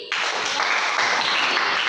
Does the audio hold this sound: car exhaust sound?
no